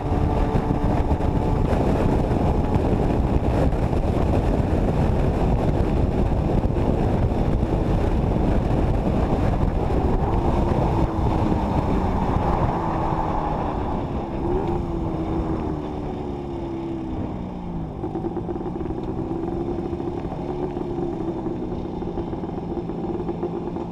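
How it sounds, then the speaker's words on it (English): A 250cc Villiers two-stroke Panther 35ES motorcycle cruises at a steady 55 mph on a dual carriageway, slipstreaming a lorry. A loud, continuous engine drone is heavily buffeted by wind roar, with no talking. "A quick dual carriageway run, slipstreaming a lorry at a steady 55 miles an hour, put a few miles behind us"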